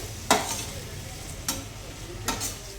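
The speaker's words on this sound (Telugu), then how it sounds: "ఈ మసాలాలు మొత్తం పట్టేలాగా సిమ్లో పెట్టుకొని అయితే కలుపుకోవాలి" A spoon scrapes through spicy masala and tomato simmering on low heat in a pan. Three distinct sharp stirring scrapes stand out over a faint continuous sizzle, close up and with no voices.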